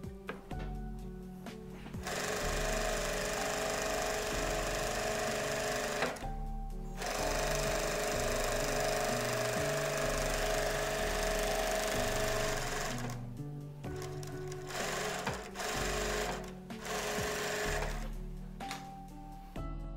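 A Kansai Special chain stitch sewing machine stitching elastic, running in long steady whirring bursts with brief pauses between them, close and fairly loud, no voices.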